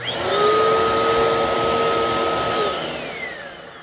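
A Mainstays vacuum cleaner with a Midea motor runs on a living room floor with a loud steady whine, then its pitch drops as it winds down near the end.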